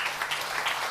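A church congregation claps together in a brief, dense burst of applause, steady and fairly close throughout.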